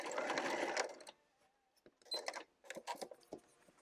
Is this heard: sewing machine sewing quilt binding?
yes